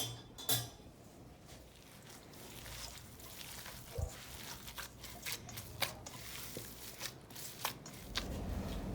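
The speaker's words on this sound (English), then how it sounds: "Salt, olive oil, and we mix it well." Kebab meat mixture being kneaded by hand with salt and olive oil, giving soft wet squishing and occasional clinks of a bowl, close and fairly quiet with no talk.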